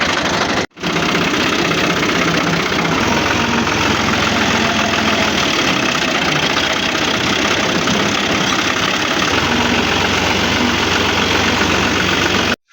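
A tractor engine idles loudly and close by with a steady low rumble and knocking throb that runs almost the whole time, cutting out briefly near the start and again at the very end.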